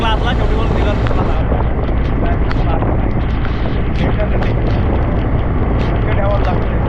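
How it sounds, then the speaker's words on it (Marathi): Strong wind with rain during flooding in Alibaug, heavy gusts battering the microphone in a loud, constant low rumble with scattered patters and splashes throughout. "खतरनाक वारा सुटला आहे तेवढा, पाऊस"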